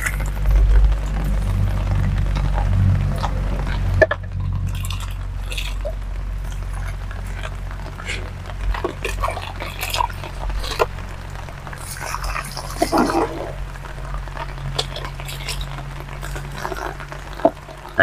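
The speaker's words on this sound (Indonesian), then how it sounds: "kalau NPK baru kita siramkan seperti ini bisa merata ke seluruh media tanam yang ada di dalam dinding ground" NPK fertilizer solution poured onto the planting soil of a young waru bonsai, a low rushing pour that stops after about four seconds, followed by soft, scattered wet trickles, drips and squishes as the soil soaks it up.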